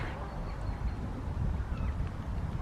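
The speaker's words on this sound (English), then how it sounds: "The geese back there, they're quite noisy." Geese honking and calling across open water on a canal, a steady low rumble of background noise underneath with occasional calls standing out.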